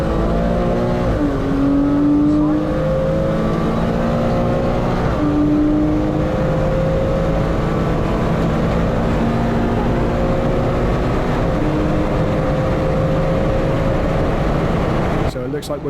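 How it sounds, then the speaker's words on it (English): Porsche Cayman on the Silverstone track, its automatic gearbox kicking down under acceleration, the engine note dropping then climbing again several times through a loud in-car drone, with talk over the top. "when you accelerate sometimes you hear that kick down"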